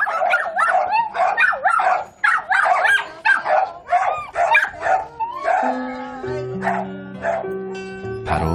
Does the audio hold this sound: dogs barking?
yes